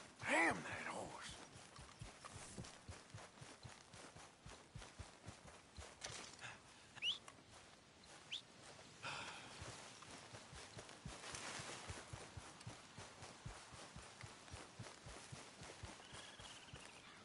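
Horse hooves clop along in Red Dead Redemption II, a steady close rhythm of footfalls that runs throughout, with a voice speaking over it in places.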